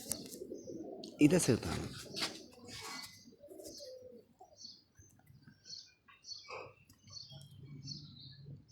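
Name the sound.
pigeons cooing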